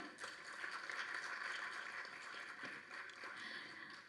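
Applause at an audio launch event for the Tamil film IPL as a writer is welcomed onto the stage: steady, dense clapping from a crowd, moderately distant and fairly quiet, running throughout without a break.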